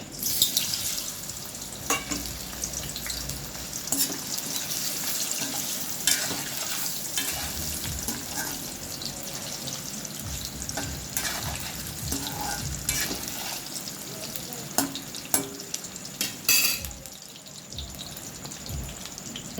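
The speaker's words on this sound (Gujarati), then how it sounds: "હવે આપણે તેલ ગરમ થઈ ગયું છે। હવે આપણે એની અંદર નાખી દઈશું બટેટા। આપણે પહેલાં તળી લઈશું।" Potatoes frying in hot oil give a dense, continuous crackling sizzle close up, with occasional spoon scrapes, steady and loud throughout with no voices.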